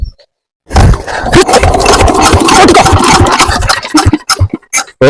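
An old Kirloskar stationary engine cranks and fires after a short silence, then runs with a loud, rough, thumping roar for several seconds before cutting out and giving a few last sputtering bursts, close to the listener.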